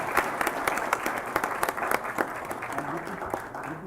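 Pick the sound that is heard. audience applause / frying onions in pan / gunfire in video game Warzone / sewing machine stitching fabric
audience applause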